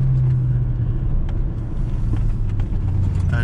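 An Audi A3 1.8T with 180 hp accelerates from a standstill on a downhill road, heard from inside as a deep, steady engine rumble with a low droning tone, loud and close, no voices.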